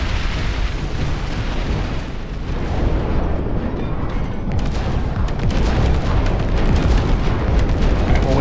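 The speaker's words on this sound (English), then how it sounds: "just look at the rocket barrage" A rocket barrage in the RTS game Dust Front, rolling as a dense, relentless stream of explosions and rapid rocket launches that stays loud from start to finish and grows slightly heavier toward the end.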